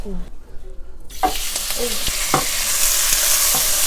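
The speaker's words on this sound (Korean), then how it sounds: "고기 조금 먼저 볶아주고 감자." Meat stir-frying in a pot as the start of a curry, a steady loud sizzle building and filling the clip, with scattered scraping stirs and a brief voice near the start.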